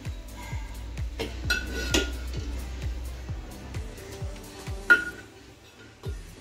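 Eggs set gently one by one into a pot holding a little water, giving a run of light, close knocks and clinks against the pot, with one sharper clink near the end.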